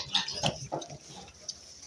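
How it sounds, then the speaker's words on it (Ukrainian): Pigs grunt and snuffle in short, soft bursts close by, a few quick oinks scattered over a couple of seconds. "Ось такі свинки."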